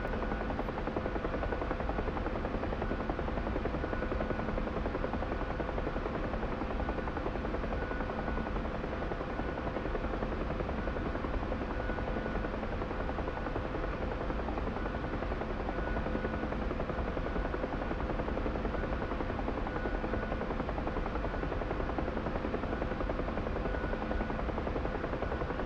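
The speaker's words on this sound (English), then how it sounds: "I can see helicopters over there, spinning the rotors." Helicopter rotors spin in the DCS combat flight simulator during a UH-1 Huey mission, a constant loud whirring drone with engine hum that holds steady for the whole stretch and never lets up.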